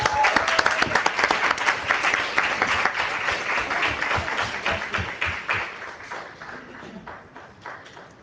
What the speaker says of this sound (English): Let's give a round of applause for her.